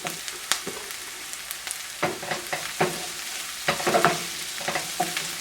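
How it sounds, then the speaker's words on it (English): Garlic and onion sizzle softly in a pan for ful medames while a utensil stirs them, giving irregular scraping taps and clacks over a low, steady frying hiss, heard close up. "So we're going to add our garlic. Same thing, we're just going to stir these in."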